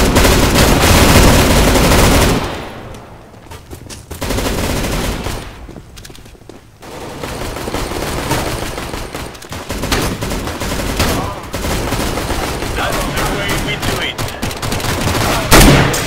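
Gunfire in a first-person shooter game, with loud rapid bursts of automatic fire and single shots across most of the stretch and a short quieter gap early on.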